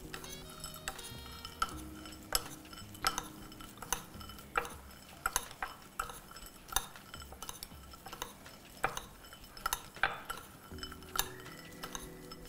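Chopped hazelnuts are mixed with flour in a bowl, a spoon scraping and clinking against the bowl in quiet, repeated taps at a close, soft level.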